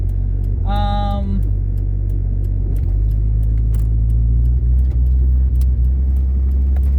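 A cold 1981 Ford Mustang engine idles in winter with a steady low rumble, and a few scattered pops and clicks come through while warming up; a brief tonal beep sounds near the start.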